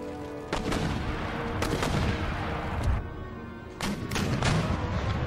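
Musket volleys crack out in rapid bursts during an Empire: Total War battle with Ottoman Empire forces assaulting Courland, dense overlapping gunfire and booms over a constant roar of battle noise.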